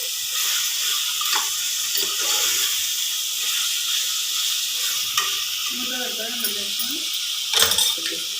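Ginger garlic paste is stirred into a hot pan for home-style mutton curry, with a constant frying hiss and occasional scraping stirs, no talking.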